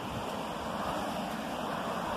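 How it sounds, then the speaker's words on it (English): Water gushes down near a countryside waterfall in a park, a continuous, full rushing noise that stays even throughout with no voices. "that water's absolutely gushing down"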